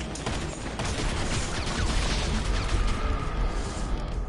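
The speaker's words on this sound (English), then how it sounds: "he's using a fucking machine gun sniper" A machine-gun-style sniper rifle fires in a shooter video game. Rapid shots blur into a loud, continuous roar with heavy low rumble that barely varies across the few seconds.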